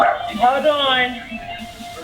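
A small pet dog yips and barks a few times during a call, short high barks and whimpers mixed with a person talking close by.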